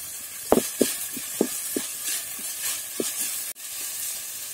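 Green chillies and curry leaves frying in hot oil for a chicken roll filling, a continuous close sizzle and hiss broken by several sharp crackles and pops.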